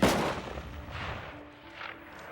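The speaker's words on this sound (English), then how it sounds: "Suddenly, a gunshot echoed through the forest." A rifle shot rings out in a forest, a loud sharp blast at the start that decays into a long rolling echo over about two seconds, with faint tonal sounds trailing afterward.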